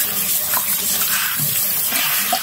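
Tap water runs steadily and loudly into a pot while rice is washed by hand, a continuous rushing splash with no talking.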